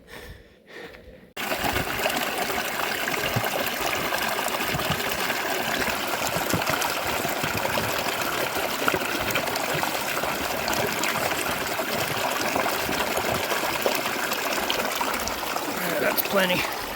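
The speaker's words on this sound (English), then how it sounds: "I hear water over there, which is good." Water rushes and burbles steadily in a flowing mountain stream on La Plata Peak, Colorado, a continuous close wash of sound after a brief quieter moment at the start.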